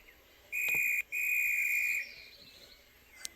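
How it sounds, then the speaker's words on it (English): A railway guard's whistle shrills twice, a short blast and then a longer steady one, loud and close, leaving a faint tail afterwards. "The guard then blew his whistle"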